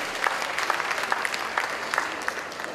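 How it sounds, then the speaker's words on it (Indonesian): Applause from an audience at a marketing event in Jakarta, a steady patter of many hands clapping for a few seconds at moderate distance, with no voices over it. "Tepuk tangan dong untuk orang pinter."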